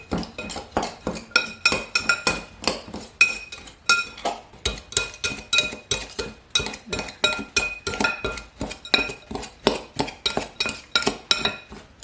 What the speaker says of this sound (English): when you're trying to cut this butter into the flour mixture, the flour and sugar mixture with a half a cup of oats